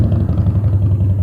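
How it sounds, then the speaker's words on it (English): A loud motorcycle rumbles past close by, a heavy, steady engine roar that fills the whole short moment without letting up. "Here comes a loud motorcycle."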